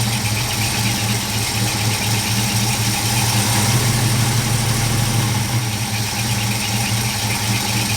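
A small engine runs steadily and loudly up close after a choke cable adjustment, a continuous idling drone with a faint knocking pulse and vibration, with no talking.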